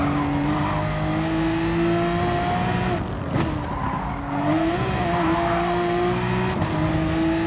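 Race car lapping the Red Bull Ring in Gran Turismo Sport, a steady high engine drone that dips and climbs through a corner with brief tyre scrub, loud and continuous with no talk.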